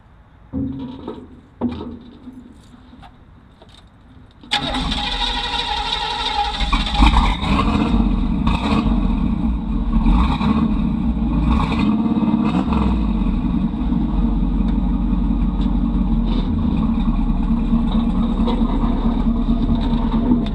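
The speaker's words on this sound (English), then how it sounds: "So let's crank this thing up and see how it sounds." A tow vehicle's engine, just fitted with a repaired exhaust, cranks and catches after a few quiet seconds, then runs loud and steady with rising revs, close up with no talking.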